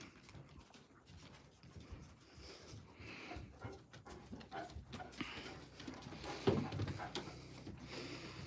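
A big dog pants softly nearby, its quick, breathy rhythm set in an off-grid outdoor spot during a snow melt, mixed with faint shuffling and occasional louder movement.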